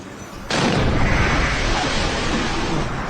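A bomb blast in Kabul, Afghanistan, caught on news footage: a sudden loud boom that bursts in and rolls on as a sustained roar and rumble, fading slightly over a few seconds.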